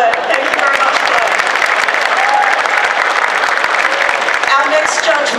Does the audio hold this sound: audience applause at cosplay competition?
yes